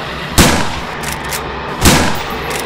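Two loud gunshots in the Survive The Nights game at a police station, evenly spaced about a second and a half apart, each a sharp crack with a short decaying tail.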